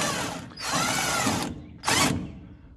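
A power tool runs out a puller bolt on a Gleaner R72 combine during a main separator clutch bearing job, giving two close, loud whirring bursts with a short pause between them.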